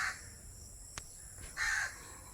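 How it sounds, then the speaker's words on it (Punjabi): Crows give two harsh caws a moment apart over farm fields, moderately close, against a faint steady background hum. "ਕਾਂ ਕਾਂ ਕਰੀ ਜਾਂਦੇ ਕਾਂ"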